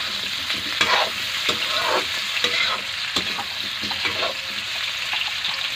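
Barhar (monkey jack) flowers stir-fry in a pan for a curry, a steady close sizzle broken by regular scraping strokes of a spoon as the flowers are turned over.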